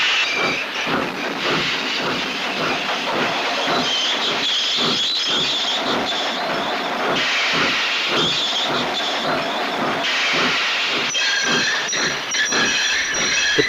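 A steam train's wheels slip on fallen leaves, giving a loud, fast, even run of chuffs and hissing steam with metallic clatter throughout, and no voices.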